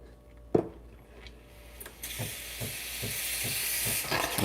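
An espresso machine's steam wand steams latte milk, a sharp click followed by a steady, loud hiss that grows and holds, with faint rhythmic knocking beneath.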